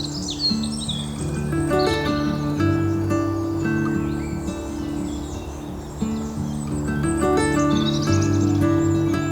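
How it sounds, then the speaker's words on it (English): Many birds sing and chirp high in the treetops beside a reservoir, with overlapping calls and trills carrying on steadily over a constant low background hum. "I keep hearing lots of birds, but they always seem to be in the tops of the trees"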